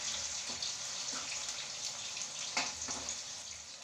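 Well-drained potato pieces fry in hot palm oil, giving a steady, bright hiss that runs evenly throughout with small crackling bursts and no voices.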